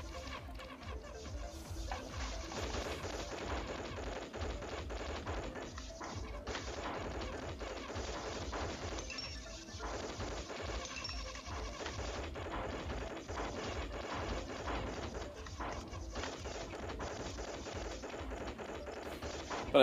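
Halo gameplay with dense, continuous combat noise: rapid gunfire, blasts and crashes against enemies, loud and unbroken for the whole stretch.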